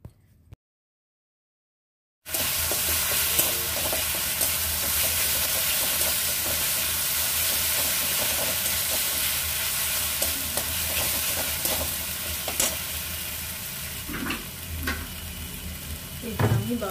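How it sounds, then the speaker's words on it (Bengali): Spice paste for doi maach (fish in yogurt curry) sizzles and fries steadily in a pan as it is stirred, a continuous crackling hiss after a brief silent start, with occasional scraping strokes and no talk. "মশলাটা 2 মিনিট ভালো করে কষে নেব যাতে কাঁচা গন্ধটা চলে যায়।"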